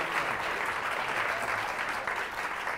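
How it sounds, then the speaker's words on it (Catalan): Steady applause from a TV game-show studio audience, dense and continuous clapping throughout. "Aplaudiment ben merescut, Òscar."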